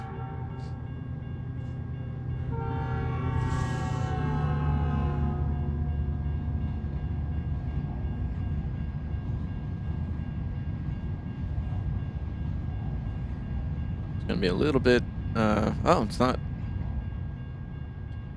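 Long freight train rolling past a crossing in American Truck Simulator, a loud, steady rumble throughout with a horn early on and bursts of clanking later, while someone talks over it.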